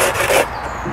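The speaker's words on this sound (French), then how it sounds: "La petite scie à main classique." Brief, rough rasping strokes of a small hand saw biting into wood, close up and fairly loud, about two quick pulls.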